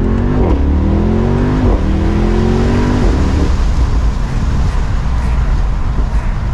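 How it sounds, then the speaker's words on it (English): A Mercedes-AMG SL 63 Roadster engine revs hard and accelerates, its exhaust pitch climbing in repeated surges before settling into a loud, steady roar. "we can really open up this exhaust just a little bit more."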